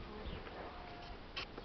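Honey bees hum and buzz steadily at an open hive during honey harvesting with two supers, a soft, close, continuous drone with faint background noise and no talk.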